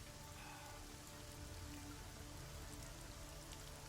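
Rain in Deus Ex: Mankind Divided falls as a steady, even hiss of drops hitting surfaces, soft and continuous with no voices.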